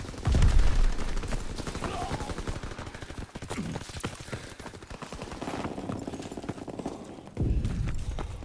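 Gunfire from the Call of Duty WWII video game: dense, continuous bursts of rifle and machine-gun fire with heavy thuds, loud and sustained with brief shouted game dialogue mixed in.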